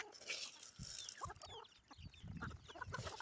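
Farm chickens pecking at scattered grain, giving soft, faint clucks and scratchy rustles over a brief stretch with no talk.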